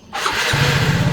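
Motorcycle engine with a rebuilt Takayama cast-iron cylinder block catches on the first try, a sharp starter burst settling into a steady, close, loud idle.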